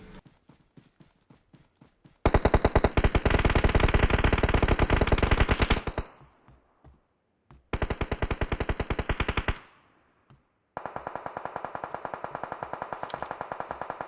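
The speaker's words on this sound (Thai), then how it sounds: "มุมนี้ก็ได้ยินแต่เสียงปืนนะครับ แล้วก็จุดที่เพื่อนยิงนะ" Automatic gunfire in the mobile battle royale game PUBG Mobile: three long, rapid bursts of loud, close shots separated by short pauses, with a few faint footstep-like taps at the start.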